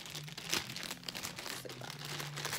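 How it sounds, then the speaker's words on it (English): A plastic bag from a beauty product haul crinkles and crumples up close, with bursts of rustling and crackling over a few seconds and no talking. "So it came in a plastic bag."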